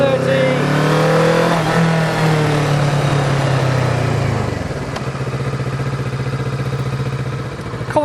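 A motorcycle on a test course for a hazard-avoidance exercise revs and accelerates from a corner, its engine note rising, then the throttle closes and the engine settles to a lower drone, with a voice talking over it.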